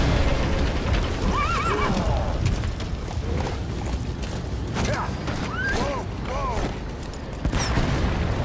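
A horse in the video game Metal Gear Solid V lets out several high, wavering neighs, one early and a cluster later, over a dense bed of game noise with mechanical clatter and occasional bangs.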